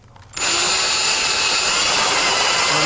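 A power drill spins up abruptly and keeps whining at a steady high pitch, biting into material close by, with no talking, drilling a hole on a mower to fit rear LED lights.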